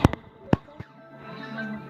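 Explosions in the video game Solar Smash: a few sharp crackling bursts in quick succession, then a fading rumbling tail, fairly quiet.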